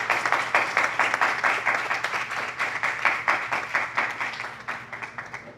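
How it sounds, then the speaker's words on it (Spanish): A crowd applauds for colleagues at a gathering, dense steady clapping from many hands that holds for several seconds, slowly thins and softens toward the end, with no voices on top. "Vamos a darle un aplauso a los compañeros"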